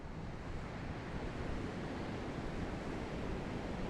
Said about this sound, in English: one of the most peaceful sounds in the whole world is the sound of waves crashing on the beach